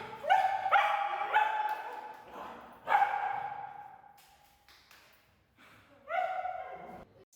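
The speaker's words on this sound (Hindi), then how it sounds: "देख तो ए कुत्ता है, कैसे जाएगा, हम पकड़े हुए हैं।" A dog inside a house, probably held back from running off, gives several loud yelps and whimpering barks in bursts, some drawn out into whines, close to the listener.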